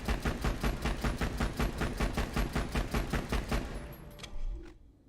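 Rapid automatic gunfire from a weak, paintball-like gun in the Borderlands video game, a fast steady burst of shots lasting about four seconds before cutting off with a brief clatter.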